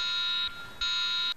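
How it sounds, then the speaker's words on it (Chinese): A Taiwan-made iWallet fingerprint wallet sounding its separation alarm: two long, loud, high electronic beeps with a short gap between them, close by. "和手机蓝牙连接超过一定距离就会哔哔作响"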